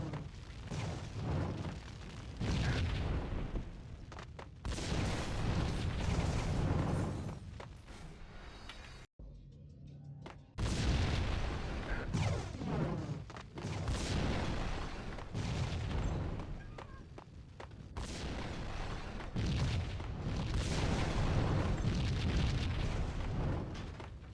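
Explosion in the Max Payne video game: a long, loud rumbling blast with sustained low boom and crackling debris, dipping briefly to near quiet midway before the roar resumes and continues to the end.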